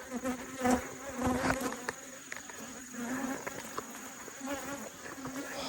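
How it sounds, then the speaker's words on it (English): Bees buzz steadily nearby during a hive inspection, their droning hum rising and falling as they fly close past, with no talking. "These bees are trying to get me."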